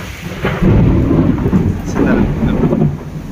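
A loud, rolling rumble of thunder from a nearby lightning strike during a storm at the Jagannath temple, sustained and heavy over steady rain hiss.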